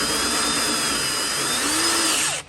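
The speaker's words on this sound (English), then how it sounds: "let's go drill the manifold" A power drill bores into a tractor's metal turbo manifold, a loud close whine and grind that shifts slightly in pitch as the bit bites, then cuts off abruptly at the end, with no speech.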